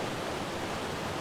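Constant running water beside a base in Ark: Survival Evolved, a steady dense rushing hiss with no breaks or voices, like a nearby waterfall or stream.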